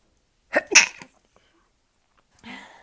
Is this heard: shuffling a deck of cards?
no